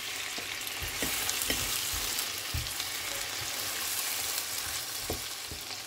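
Tomatoes go into a pan already frying garlic, ginger and green chillies for a dhaba-style aloo gobi, giving a steady close sizzle with scattered stirring clatters and spatula knocks throughout, no voices.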